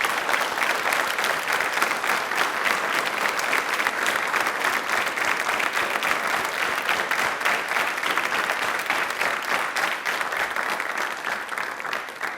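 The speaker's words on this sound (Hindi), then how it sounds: "प्लीज एक बार जोरदार बजा दीजिए।" Loud, steady applause from a studio audience at a televised general-knowledge quiz show, dense clapping sustained evenly for the whole stretch without a break.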